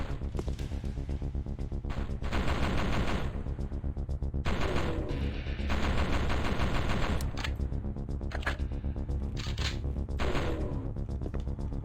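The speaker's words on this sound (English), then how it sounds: "Yeah, it's just a shotgun." Rapid bursts of gunfire from a shotgun in a PS1 demo disc video game, loud repeated volleys in several clusters over a constant game backdrop, no talk.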